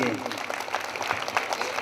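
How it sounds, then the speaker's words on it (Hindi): Congregation applauding for God during a Hindi sermon, a dense steady wash of clapping throughout with a preacher's voice running over it. "जोरदार तालियां परमेश्वर के लिए"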